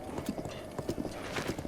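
A horse's hooves clip-clop at a steady trotting rhythm in the video game Breath of the Wild, moderately faint, with a soft ambient backdrop.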